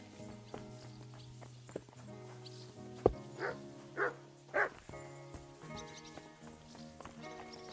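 In Kingdom Come: Deliverance 2, a dog gives three or four short barks at a moderate distance over a quiet, humming medieval game background, with faint footsteps or hoof clops.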